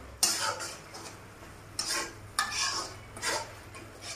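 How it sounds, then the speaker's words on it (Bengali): Chopped tomatoes cooked with turmeric are stirred in a pot, giving four separate bursts of scraping and clinking a spoon against the pot over a faint background sizzle, close up and with no voices. "এবার আমি এটাকে মিশিয়ে একটু সময় সেদ্ধ হতে দেবো"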